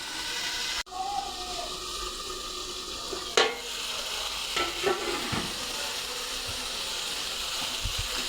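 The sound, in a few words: spice paste being stirred and fried in oil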